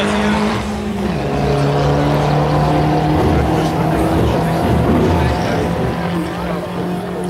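A Citroën 2CV race car speeds down an airfield track at high revs, its engine a loud, steady, droning whine that holds close throughout.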